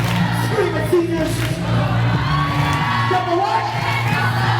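A live audience at a Q&A show screams and cheers for seniors, a loud, sustained roar of shouting and whoops from a large crowd close by.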